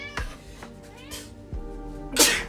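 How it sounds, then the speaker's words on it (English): A cat meows and yowls in a kitchen, giving a few short, fairly faint cries and a louder squeal at the end, mixed with small household noises. "The screams of a cat denied."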